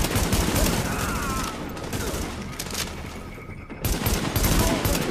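Rapid gunfire from the video game The Division crackles in dense volleys, loud and continuous with brief lulls, while a player's voice is heard faintly alongside.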